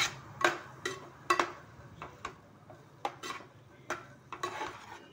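Coriander powder being stirred into a bottle gourd (sorakaya) and coconut milk curry, a spoon scraping and clinking against the pot in uneven strokes over a faint simmer, close and fairly quiet, no voices.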